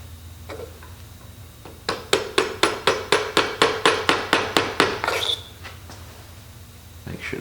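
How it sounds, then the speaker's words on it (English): A hammer taps a piece of pipe to drive a part down onto a D-type overdrive shaft, giving about fifteen evenly spaced, sharp metallic strikes in a steady rhythm, close and fairly loud, with quiet pauses before and after. "You can kind of tap it down with a hammer."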